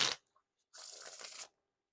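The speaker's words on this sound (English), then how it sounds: "Kind of a nice satisfying riffle to it." A quick riffle shuffle of Squeezers playing cards, a soft fluttering burst lasting under a second after a brief tap, close and clear.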